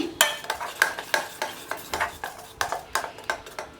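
Locho batter being stirred with garam masala in a pot, a spoon scraping and knocking in a quick, regular rhythm of about three strokes per second, close and clear.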